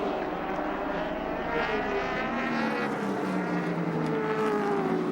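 Group A touring cars race at Amaroo Park in 1987, a continuous engine roar with rising and falling pitch sweeps as cars pass, heard steadily at moderate distance without talk.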